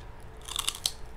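Crunchy bites into crispy pork chicharon bagnet, heard as a brief run of three or four close, crisp crunches with no talk over them.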